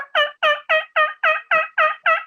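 A man imitates a turkey gobble with his voice, giving eight loud, evenly spaced gobbling bursts in quick succession, close and alone with no other talk.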